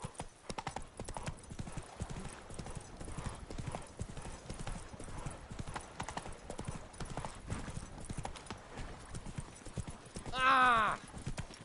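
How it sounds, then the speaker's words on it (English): A horse gallops in rapid, rhythmic clip-clops throughout, heard in the Witcher 3 video game, ending with a short loud whinny near the close. "Run, Roach."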